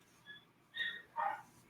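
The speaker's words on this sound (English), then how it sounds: "I don't know if you can hear my dog upstairs" A dog in another room upstairs lets out two or three muffled, distant barks and yips, faint against a quiet indoor background.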